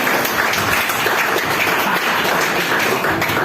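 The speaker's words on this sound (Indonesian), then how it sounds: "Tepuk tangan untuk Yuda" Steady, dense audience applause for stand-up comedian Yuda at a stand-up comedy show in Bali, loud and continuous throughout with no voices over it.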